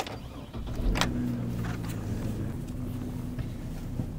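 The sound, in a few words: car driving off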